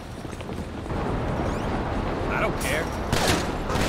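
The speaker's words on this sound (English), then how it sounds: "Shots fired, shots fired. Shots fired at an officer." Gunfire during a police SWAT raid in the video game GTA 5, a continuous crackling volley of shots at moderate distance with sharper bursts near the end.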